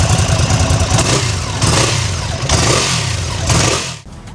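A Ducati motorcycle's engine revs loudly at close range in several surging pulses of throttle, each swelling and falling back, before a brief drop near the end.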